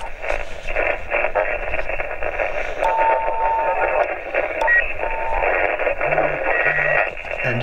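Loud, steady hiss and crackling static on the 40 meter band from a Xiegu G-90 transceiver with the preamp off, with faint whistling carrier tones drifting through and no intelligible signal, continuous throughout.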